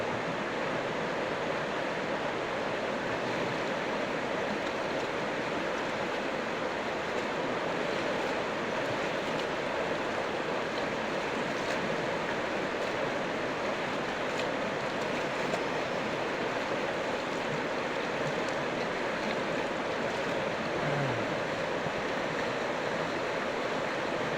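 A rural river in the Philippine countryside, at a spot used for washing laundry, gives a steady, close broadband rush of flowing water that holds unchanged for the whole stretch, with no talk over it.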